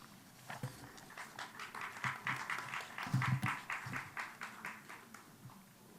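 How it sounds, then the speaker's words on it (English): Audience applause at an inaugural session of a creative arts event, moderately loud scattered clapping that swells midway and continues steadily throughout. "I think the applause should continue."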